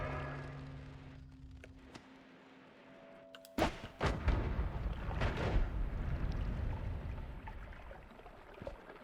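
Missiles exploding in the video game Noita: a sudden loud burst of blasts partway through, followed by a dense, crackling rumble that slowly fades.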